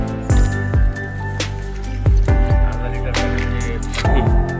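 Biodynamic compost solution, mixed in about half a litre of water, poured a little at a time into small pits in the ground, giving repeated close splashing drips and wet squishy pours in short bursts with no talk.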